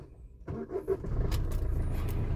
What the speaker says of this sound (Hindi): गाड़ी एक बार चालू करके दिखा देता हूँ